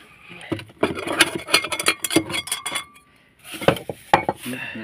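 A metal cooking pot and utensils clank and clatter repeatedly at close range, busy handling noise with brief pauses, a short lull before more knocks.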